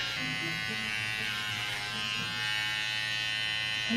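Electric hair clippers buzz in a steady, close drone while fading a home haircut, holding an even hum throughout with no break.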